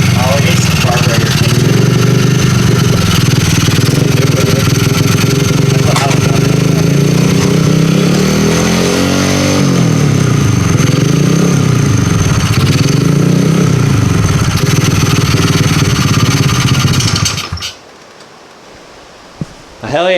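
A newly installed 88cc T-Bolt USA engine kit runs loud and close, a continuous buzzing, revving drone that rises and falls for most of the time before cutting off abruptly near the end.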